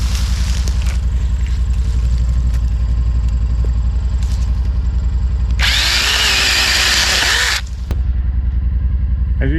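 A SainLogic mini chainsaw's small engine runs at a steady idle, then revs up loudly for about two seconds as it cuts through a small pine tree before dropping back to idle.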